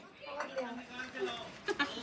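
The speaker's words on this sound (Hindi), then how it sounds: "पहले दीदी बर्तन मांज रही थी, अब मामी मांजने लगी।" Dirty dishes and utensils are being scrubbed by hand in a home kitchen, with soft scraping and occasional metallic clinks of pots and cutlery. People chatter quietly in the background.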